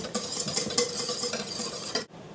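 A whisk or spoon stirs chilled crêpe batter in a bowl with a continuous wet, scraping swirl, close and steady, ending abruptly.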